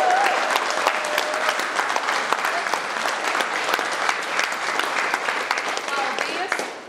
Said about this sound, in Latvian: Es domāju, ka viņi ir pelnījusi nenormāli skaļus aplausus par šovakaru.